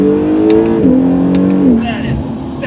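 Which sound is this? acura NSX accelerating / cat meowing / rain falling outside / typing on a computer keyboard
acura NSX accelerating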